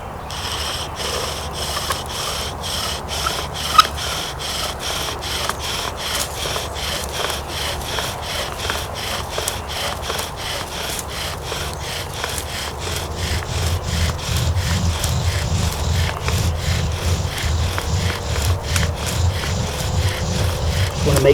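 A bow drill spindle rubs against a wooden fireboard to build an ember, making a steady rhythmic sawing and scraping. It stays close and continuous and grows louder and rougher toward the end, with no talking.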